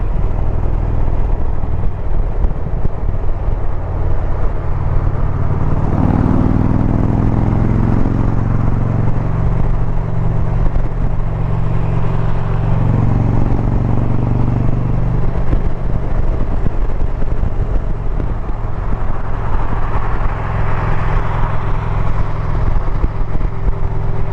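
A motorcycle cruising on a highway, its steady engine drone and wind rush filling the whole stretch at a constant loud level, with a few slow shifts in engine pitch and no talking.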